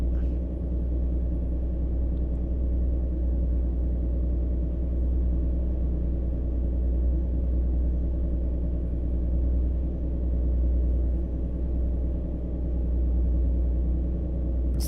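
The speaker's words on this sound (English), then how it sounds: "Has a really nice engine sound, nice little burbly exhaust sound, and almost no turbo sound" A steady, deep truck engine rumble in American Truck Simulator with a low, throaty exhaust burble and almost no turbo sound, even and continuous with no other sounds.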